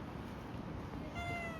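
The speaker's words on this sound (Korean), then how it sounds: "근데 앞에 고양이가 2마리나 있어요." A cat meows faintly on a street outside a beef-tripe restaurant in Seoul, with the thin cries rising near the end over a steady hum of background noise.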